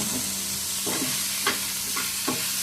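Chicken masala gravy with tomato frying in a pan, a constant close sizzle broken by four or five quick spatula scrapes at a steady pace, with no one talking.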